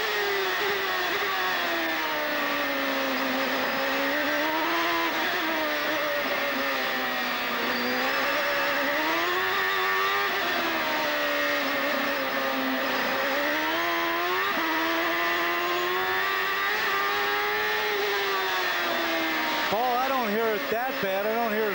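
Robbie Gordon's Indycar, its engine running rough at Mid-Ohio in 1996, holds a loud continuous whine that rises and falls with the revs, while a commentator talks over it.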